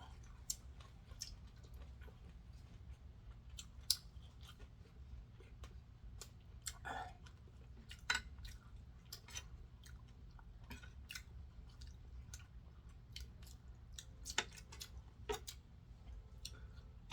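Someone eating boiled frog, quiet close chewing with scattered soft clicks and crunches over a low steady background hum.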